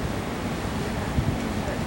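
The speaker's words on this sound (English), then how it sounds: "Nothing more beautiful than watching water just free fall down the side of a rocky mountain face." A waterfall free-falls down a rocky mountain face near Norway's Ørnevegen (Eagle Road), giving a steady, broad rushing roar mixed with wind buffeting the microphone.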